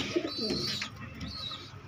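Pigeons coo in a loft, giving soft, close, low burbling calls along with a few thin higher chirps, heard alone without any talk.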